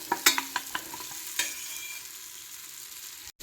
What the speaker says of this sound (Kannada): ಒಂದು ಹಳದಿ ಹುಡಿ ಹಾಕಿ 1-2 ನಿಮಿಷ ಚೆನ್ನ ಮಾಡಿ ಎಣ್ಣೆಯಲ್ಲಿ ತುಪ್ಪದಲ್ಲಿ ಫ್ರೈ ಮಾಡಬೇಕು